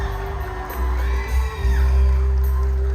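An audience at a state-level Unduk Ngadau pageant cheers and whoops loudly for a Tambunan contestant, a dense, sustained crowd roar that swells toward the end.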